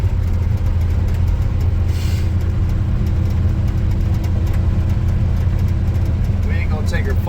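Restored 1947 Ford car driving on its first ride, a low rumbling engine and road noise heard from inside, steady and fairly loud, with faint voices now and then.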